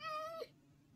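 A cat in the video game Minecraft gives a single clear, tonal meow that ends abruptly, followed by quiet, with no voices.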